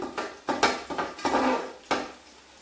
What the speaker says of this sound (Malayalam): നമുക്ക് ഇത് ഇട്ട് കൊടുത്തതിന് ശേഷം പതുക്കനെ ഒന്ന് ഇളക്കി നോക്കാം